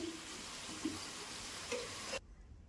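Snacks frying in hot oil, a steady close sizzle with a couple of brief clinks, ending abruptly near the end.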